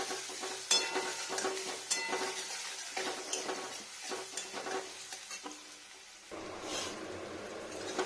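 Onions fry gently on slow heat in a pan, giving a soft sizzle broken by repeated scraping and stirring clatter, with a quieter patch before the frying rises again.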